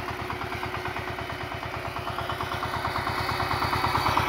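A VST power tiller rigged as a tractor runs steadily, its engine chugging in a rapid, even low rhythm with mechanical clatter, close and fairly loud throughout and rising slightly toward the end, with no voices.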